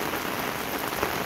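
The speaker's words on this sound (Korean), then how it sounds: "그런데 비가 얼마나 오는지 물이 흘러갑니다." Heavy summer monsoon rain falls steadily on a garden with flowers and running water, making a dense, even hiss of drops with no voices.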